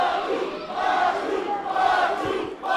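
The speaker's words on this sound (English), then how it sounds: "Listen to this crowd." A large crowd at a live wrestling event roars steadily, a dense, loud wall of cheering and shouting voices that swells and dips across the few seconds.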